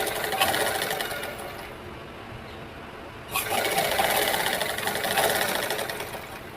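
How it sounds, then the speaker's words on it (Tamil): Sewing machine stitching around the neckline of a lined blouse, a steady close whirring hum with a short dip in speed partway through before resuming. "இப்போ நெக்கை சுற்றி தையல் அடிச்சுக்கலாம்."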